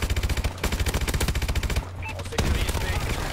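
Rapid machine gun fire from Call of Duty Advanced Warfare multiplayer, a fast regular burst of loud shots, a brief pause, then another sustained burst, with a voice briefly talking under the gunfire.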